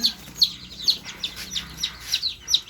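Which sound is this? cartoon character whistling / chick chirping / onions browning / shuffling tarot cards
chick chirping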